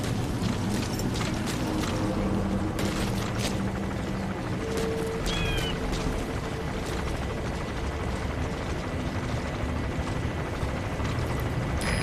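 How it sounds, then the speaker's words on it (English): Helicopter landing in the video game Metal Gear Solid V: The Phantom Pain: a dense, continuous rotor-like roar holds steady and loud throughout, with scattered sharper game effects layered on top. "There's a chopper landing."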